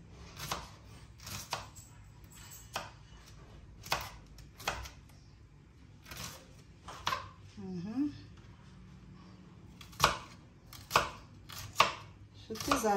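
Onions chopped into small pieces on a board, a series of sharp, close knife thuds at an uneven rhythm, with someone talking between the cuts.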